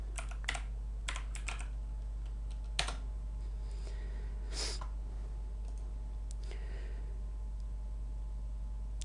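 A few scattered keystrokes on a computer keyboard, typed sparsely with pauses between the clicks over a steady low electrical hum.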